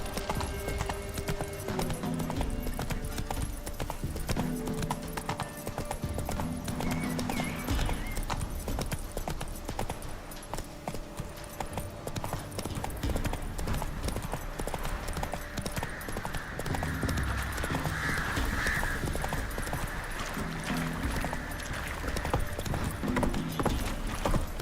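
A horse galloping in the video game The Witcher 3, with steady rhythmic hoofbeats running the whole way through, loud and close, over faint background game sound.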